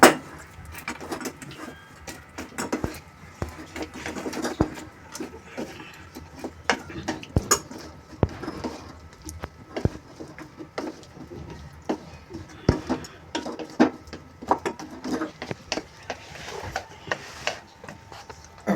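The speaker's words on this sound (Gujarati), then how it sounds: "હવે આપણે સિંગદાણા નાખી દઈશું અને આપણે મિક્સ કરીને તરત પાથરી દેવાનું છે." Peanuts being stirred into hot jaggery syrup in a pan for peanut chikki, with repeated close clinks and scrapes of a spoon against the metal in an irregular rhythm.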